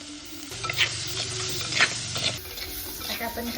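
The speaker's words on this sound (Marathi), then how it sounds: "आता आपण कांदा चांगला परतून घेऊ म्हणजे पुन्हा असा लालसर कलर येईपर्यंत" Chopped onion with a pinch of asafoetida sizzles in a pan while a spoon stirs it, soft steady frying with scraping strokes and clinks, close and fairly quiet.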